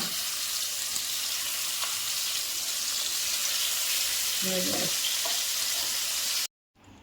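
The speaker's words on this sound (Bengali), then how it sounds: "এই যে আমার মাছগুলো ভাজা হয়ে গেছে" Koi fish frying in hot oil in a home kitchen for a Bengali curry, a steady close sizzle with a few brief clinks of a utensil before it cuts off.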